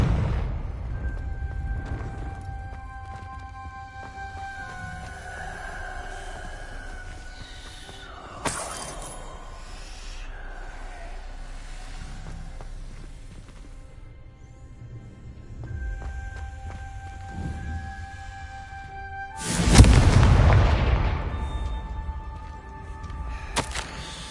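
Confringo blasting spells in Hogwarts Legacy go off as a couple of sharp explosive bursts with shattering debris, one brief crack early and a louder, longer blast near the end, set against a quiet ambient game backdrop.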